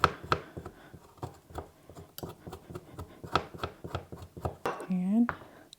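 A knife scraping the thin skin off fresh ginger in quick, repeated rasping strokes, close and distinct, while a person talks over the scraping.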